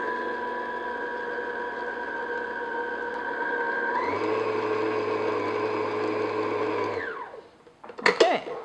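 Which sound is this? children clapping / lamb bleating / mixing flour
mixing flour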